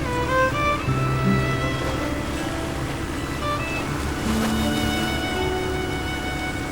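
Sea waves wash along the Black Sea coast in a steady, continuous rush of surf. Faint tonal music sits underneath, and no one speaks.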